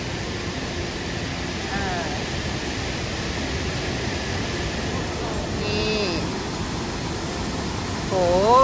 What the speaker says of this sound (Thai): ดูการไหลของน้ำตกสิ